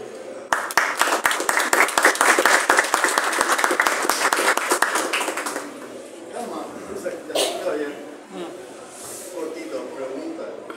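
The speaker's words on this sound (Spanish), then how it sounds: "el aplauso que es más fuerte" An audience bursts into loud, dense applause at a book presentation of Entropía at the FIL 2024 book fair. The clapping lasts about five seconds, then fades into someone speaking.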